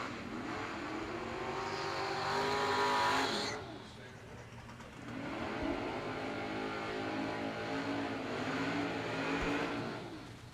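Drag racing cars, including a wheel-standing Chevelle, launch and roar down the strip at a bracket race, engine noise loud and sustained with a brief dip before a second run, an announcer's voice faintly mixed in.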